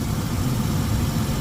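A Ford 4.0-liter overhead-valve Cologne V6 in a restored 1993 Explorer XLT runs at a steady idle, a low, even rumble heard close and alone.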